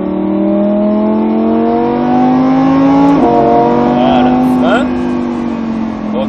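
A Lamborghini Huracán on a racetrack at full throttle, its engine note climbing steadily and loud and close, with a brief dip as it shifts gear and then a continued strong rise.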